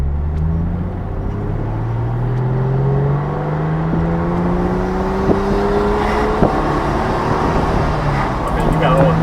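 A Porsche 911 with freshly built suspension drives a twisty back road, its engine drone steady and close with rising and falling pitch as it shifts through gears, road rumble beneath and occasional clunks and voices.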